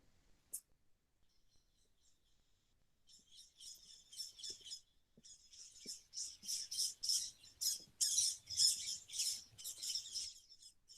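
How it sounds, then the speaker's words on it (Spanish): Many small birds chirp and twitter in the Alcázar gardens of Seville, faint at first, then growing into a dense, rapid run of high, overlapping calls, fairly quiet and distant. "La cantidad de pájaros que se oyen."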